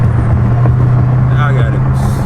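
A Dodge Challenger Hellcat with a Corsa intake rumbles in a loud, low, steady drone from inside the car, with a voice briefly heard over it.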